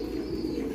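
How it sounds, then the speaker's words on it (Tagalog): Racing pigeons cooing in a loft, a low soft warbling coo held steadily for a brief moment, close and fairly loud with no talk. "Ito yung mga ibon natin guys."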